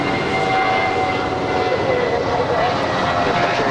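A nine-year-old Spirit Airlines Airbus A320 jet roars steadily at LAX, a loud continuous engine rumble with broadband noise and faint tonal whine throughout, no talk audible over it.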